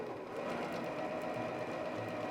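A sewing machine runs steadily and close while chain piecing a quilt seam, a continuous even whir with no pauses or talk.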